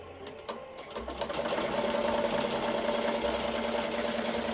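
An embroidery machine slowly stitches sequins onto a hoodie, a steady mechanical whirring and rapid needle clatter that settles into a constant rhythm, close and moderately loud with no talk.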